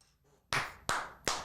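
Three sharp, separate claps ring out close and fairly loud at the start of a show, spaced about a third of a second apart after a quiet moment.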